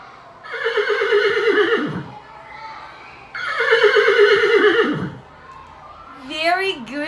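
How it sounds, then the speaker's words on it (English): A horse neighs loudly and up close in two long whinnies, each about two seconds, with a short higher call at the end and quiet between them. "Very good, guys. It's the horse."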